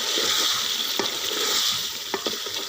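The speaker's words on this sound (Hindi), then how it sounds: "इसको अच्छी तरह से भून लेंगे" Spices for a Pakistani white chicken yakhni pulao are sautéed in a pot, with a loud, continuous sizzle and a few sharp stirring clicks.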